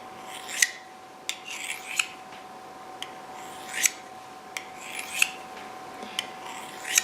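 A hunting knife is sharpened on the coarse side of a tri stone, steady rasping strokes repeating in an even rhythm, close and clear with no talking.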